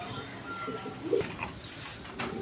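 A pair of cream-bar German Beauty pigeons coo softly in a low, murmuring rhythm amid faint background noise, with a brief louder burst near the middle; no clear talk is heard.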